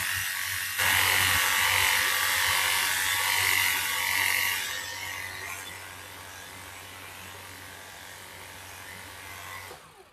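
A HOTO 20V cordless pressure washer rinses with a steady hissing spray over a low motor hum, loud for the first few seconds, then easing off before a brief surge at the end.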